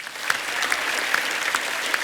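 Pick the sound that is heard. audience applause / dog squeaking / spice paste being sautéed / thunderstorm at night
audience applause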